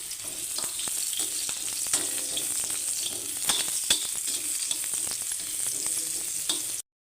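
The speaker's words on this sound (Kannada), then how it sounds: "ಹೀರೆಕಾಯಿ ಹಾಕ್ಕೊಳ್ತಾ ಇದ್ದೀನಿ ಎಣ್ಣೆಯಲ್ಲಿ ಚೆನ್ನಾಗಿ ಹುರ್ಕೊಳ್ಬೇಕು" Chopped ridge gourd frying in oil in a pan for chutney, a dense, steady sizzle with occasional sharper crackles and stirring clicks, close and continuous until it cuts off abruptly.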